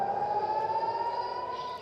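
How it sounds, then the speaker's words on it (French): Air raid sirens wail across Tel Aviv during a rocket attack, a steady sustained tone heard at moderate distance, holding level for nearly two seconds before fading slightly. "ce déluge de feu déclenche immédiatement les sirènes"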